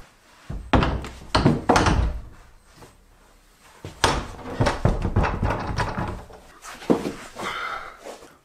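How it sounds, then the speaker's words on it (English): A French door being lifted and dropped onto its hinge pins, with a series of loud wooden thunks and knocks in irregular clusters, close by. "So let's put the door back on."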